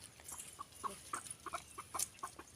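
Soft, scattered clucks from hens come in short bursts over a quiet outdoor background, fairly faint and a little distant.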